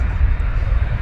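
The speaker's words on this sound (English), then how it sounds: "Lots of aeroplanes, and that's what we're bringing you today." Aeroplanes at Manchester Airport: a steady, loud rumble of aircraft engines with a deep roar that holds throughout and no talk.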